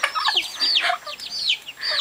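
Several chickens cluck and squawk close by in a busy, overlapping chatter, with a few quick spoken words mixed in.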